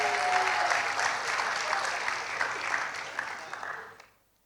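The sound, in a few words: congregation applause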